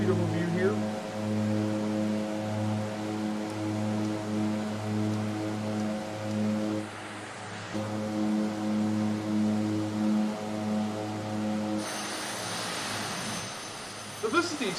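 An Otter plane engine in a flight simulator, heard from outside, makes a steady, droning hum with strong low tones that holds for the whole stretch. Near the end a hissing wash of noise joins it.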